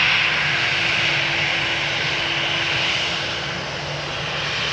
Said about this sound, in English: This is EasyJet flight 27907. It is an A319 going to Split.